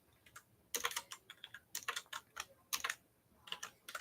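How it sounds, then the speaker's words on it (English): Fast typing on a computer keyboard comes through as quick, crisp clusters of key clicks in uneven bursts with short pauses, close and fairly quiet. "I wish I typed this fast when I was younger."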